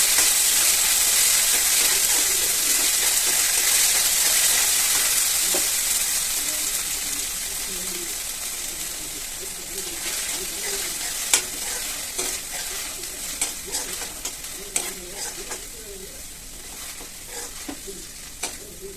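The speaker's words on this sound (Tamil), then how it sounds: "இது கொஞ்சம் நல்லா வதங்கட்டும் இதில் உள்ள தண்ணியெல்லாம் வத்துற வரைக்கும் கொஞ்சம் வதக்கலாம்" Crab masala sizzles loudly in a hot pan, the hiss slowly easing as a utensil scrapes and clinks against the pan in irregular strokes.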